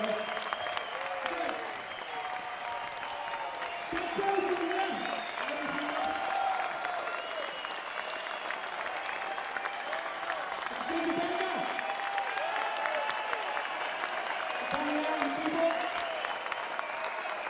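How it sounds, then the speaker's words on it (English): A concert audience in Copenhagen applauds a band, steady and full clapping that goes on for well over fifteen seconds, with brief low voice or instrument sounds surfacing now and then. "let's give a round of applause."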